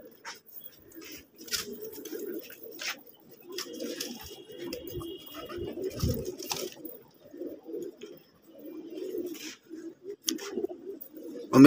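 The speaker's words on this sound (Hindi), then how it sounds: "फ़िलहाल ये कबूतर देखिए" Pigeons coo in low, throaty, rolling phrases, repeating again and again up close, with occasional rustling and soft clicks between calls.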